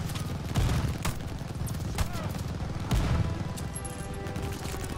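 Rapid gunfire in a World War II battle at El Alamein in Call of Duty Vanguard, a dense, sustained volley of shots with heavier bursts over a constant roar of battle.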